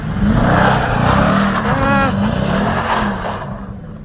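A loud engine roars and revs steadily as a vehicle spins its wheels and slides in snow, rising and dipping in pitch, with a constant high whine in the background.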